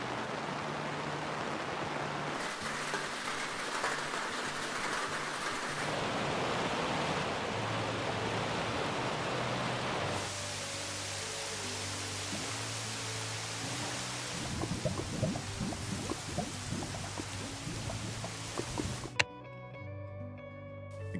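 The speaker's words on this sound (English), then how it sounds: "Cool Rain is a mod that pairs perfectly with Particle Rain, adding different sounds to rain based on the block it's falling onto." Layered rain from the Minecraft Cool Rain mod, with the patter changing by the block it falls on, plays as a steady broadband wash. Denser drip-like taps appear midway, and a brief tonal game sound closes the passage.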